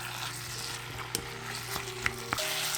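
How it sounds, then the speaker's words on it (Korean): Chopped kimchi stir-fries in one to two spoons of cooking oil in a pan, giving a soft, steady sizzle punctuated by a few sharp clicks of the utensil against the pan, with no voices. "식용유 1~2스푼 넣고 볶아줍니다."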